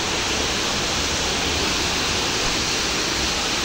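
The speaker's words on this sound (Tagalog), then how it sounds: "meron fall. Yan yung shower fall." Shower Falls at Ditumabo Falls in San Luis, Aurora roars with a dense, steady rush of falling water, loud and close, with no voices over it.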